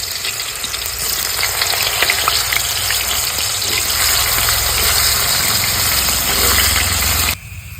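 Banana chips fry in hot oil, small batches at a time, with a loud, steady, dense sizzle and crackle that runs without break and then cuts off sharply just before the end.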